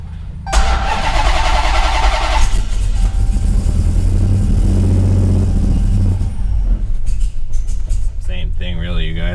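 A 1968 Dodge Charger with a Hellcat engine swap cranks with a fast whirring starter, then catches and settles into a deep, rough idle with some revving. It is loud and close, and a voice is heard briefly near the end.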